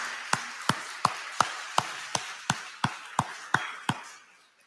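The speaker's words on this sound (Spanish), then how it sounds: "Den un aplauso a Dios." A church congregation claps for God during a Sunday service: about a dozen sharp claps in steady unison rhythm, evenly spaced and fairly close, then the room noise fades away.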